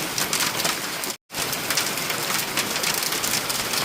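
Unseasonal hail and rain come down hard in Badlapur, a dense, loud patter of drops and pellets striking surfaces that continues almost unbroken apart from one brief cut.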